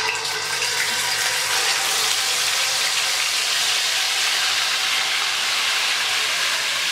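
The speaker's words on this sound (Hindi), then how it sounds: "अब हम इसमें इस चिकन को डाल देंगे।" Marinated chicken dropped into hot oil in a karahi on a stove, a steady broadband sizzle and hiss close up, continuous throughout without talk.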